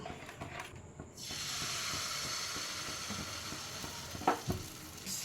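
Shyama rice batter hits a dry, wiped kadai on a gas flame with no oil, breaking into a steady, close sizzle that holds, with a couple of sharper crackles near the end.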